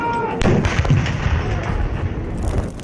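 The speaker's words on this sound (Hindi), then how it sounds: "21 तोपों की सलामी।" A 21-gun cannon salute at Nur Khan Airbase welcoming the crown prince of Abu Dhabi, with a heavy boom among continuous loud rumbling crowd and outdoor noise.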